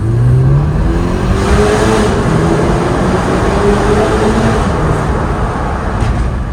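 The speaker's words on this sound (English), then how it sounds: "I'm going to make you hear the revs of the 330 Li" A BMW 330Li Gran Limousine's 260 bhp twin-turbo engine revving in manual first gear, loud and close, pitch rising and falling through several sustained revs with no talk over it.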